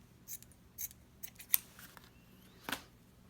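Scissors snip through tea-stained doily lace trim in several short, crisp cuts spread unevenly across a quiet moment, close and clear with no talking.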